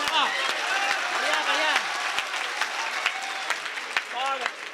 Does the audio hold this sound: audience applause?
yes